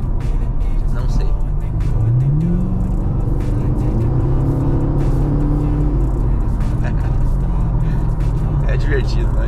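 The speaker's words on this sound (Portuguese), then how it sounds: "O carro é bem divertido, dá uma vontade de acelerar ele." A Chevrolet Camaro accelerates through city streets in Ijuí, its engine note rising and holding under steady road and cabin noise while a person talks throughout.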